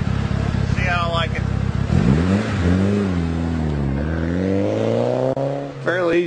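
A Mitsubishi Evo VIII on newly installed coilovers pulls away on a test drive, the engine note rising and falling through the gears close by, with a voice talking over it.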